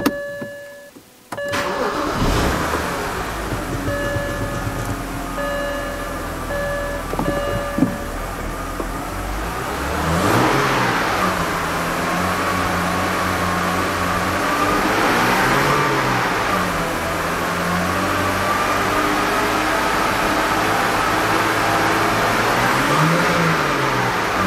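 A 2007 BMW 328xi engine cranks and catches after new fuel injectors are fitted, then settles into a steady idle with a few light revs rising and falling, close and loud with no talking.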